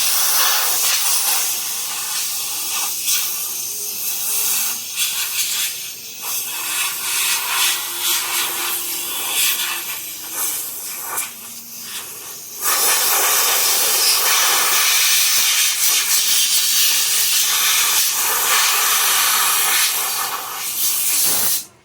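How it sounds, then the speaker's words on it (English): Compressed air blasts loudly and close onto a part being dried before powder coating, a long continuous hiss that wavers as the nozzle moves and then runs steadier and louder in the second half, with no talking. "we're just gonna hit it with some air. Dry it off real good."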